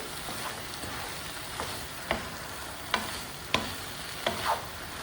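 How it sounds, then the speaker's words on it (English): Pineapple fried rice with soy sauce is stirred in a hot pan over a steady sizzle, with four distinct spatula scrapes at irregular intervals and no voices. "Then add some soy sauce. Let's mix it."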